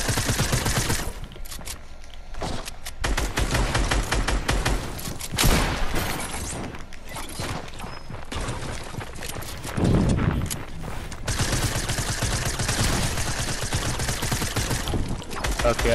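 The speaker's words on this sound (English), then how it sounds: "I'm getting shot from every place!" Gunfire in an online console-versus-PC shooter game, dense bursts and rapid volleys running almost without pause, loud and close, with excited voices talking over the shooting.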